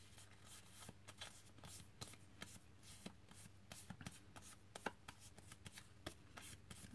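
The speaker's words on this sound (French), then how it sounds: "là vous coupez ce qui est en trop" Quiet snipping and rustling of paper being cut with scissors, a series of soft irregular clicks close by.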